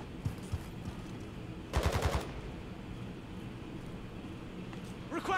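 A burst of rapid automatic gunfire rings out in Call of Duty DMZ, a short loud volley of several shots, with scattered distant shots and game ambience around it.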